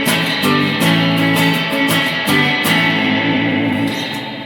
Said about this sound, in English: The reverb's pretty high right now for surf settings.